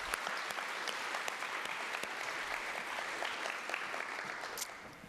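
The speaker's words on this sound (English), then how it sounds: "that's something that deserves a round of applause" Steady applause from an audience at a college kickoff event fills the clip, a dense continuous patter of many hands clapping at moderate distance, tapering slightly at the end.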